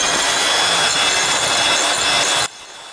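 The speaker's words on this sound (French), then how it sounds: "On mélange au batteur." An electric mixer whirs at high speed in macaron batter made with almond powder and white chocolate, a loud, steady buzzing drone that cuts off abruptly near the end.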